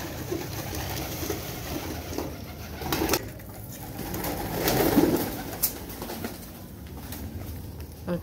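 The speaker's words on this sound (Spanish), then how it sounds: "Miren cómo vienen las palomas." Pigeons coo outdoors in soft repeated murmurs, mixed with wing flaps and background ambience, moderately close with no talking.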